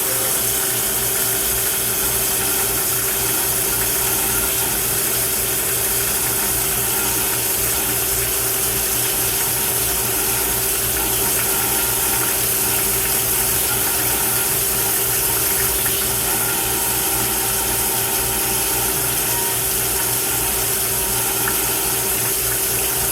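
A Mazak CNC lathe runs steadily while parting off a 316 stainless steel bushing, giving a continuous mechanical whir with a faint rhythmic ticking under a constant high hiss, with no voices.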